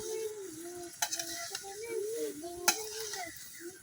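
Cleaned jujubes dropped into a pan of frying chili and lightly fried garlic for pickle, a quiet sizzle with a few sharp knocks and scrapes of stirring.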